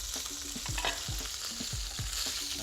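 A whole John Dory fish fries with butter in a hot pan, giving a close, continuous sizzle with rhythmic stirring or scraping strokes about twice a second and no voices.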